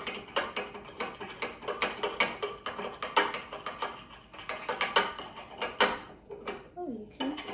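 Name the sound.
stirring a mixture in a cup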